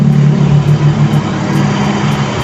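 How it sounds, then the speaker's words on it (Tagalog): Car engine revved up and held during a tachometer test, a steady mid-pitched drone with slight pulsing swells, close and continuous, no voices. "I-rev ko yung makina."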